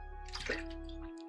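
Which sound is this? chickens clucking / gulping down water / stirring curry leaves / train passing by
gulping down water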